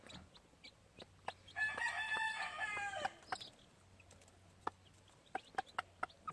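A gamefowl rooster gives one clear crow in the middle, framed by sparse, sharp clucks and peeps from hens and chicks nearby, fairly quiet overall and free of speech.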